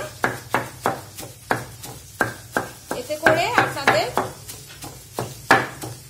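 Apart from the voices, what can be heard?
crushing ingredients on a grinding stone (shil-pata)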